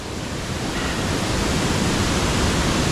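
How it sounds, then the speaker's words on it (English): A waterfall on a coffee mountain in Sultan Kudarat Province, Philippines, gives a loud, steady, close rushing roar of falling water that fills the whole clip without a break. "We hit the waterfall."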